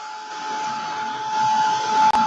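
A hair dryer blows in a steady, close whoosh with a thin whine, drying a clamped-down craft piece and cutting off abruptly near the end.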